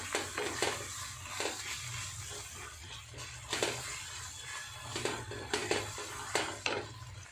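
A spoon stirs and scrapes through a coconut laddu mixture in a pan as milk powder is worked in, with repeated metallic clinks and scrapes at an uneven pace, close and with no talk.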